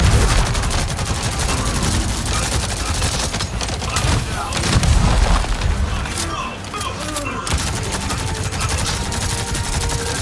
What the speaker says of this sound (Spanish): Granadas y disparos, granadas y disparos.